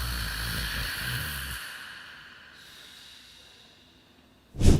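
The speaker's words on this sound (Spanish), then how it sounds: "Roncar, ese sonido molesto como de motor ahogado." Loud, close snoring: a long rough breathing rasp fades to quiet, followed by a sharp snort at the end.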